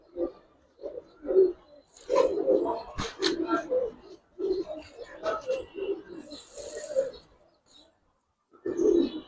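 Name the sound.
Pati pigeon cooing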